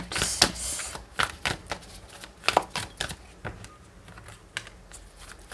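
Tarot cards shuffled and drawn during a reading, a run of crisp, irregular snaps and riffles with short bursts of card flicking, close and fairly quiet, with no talk over them.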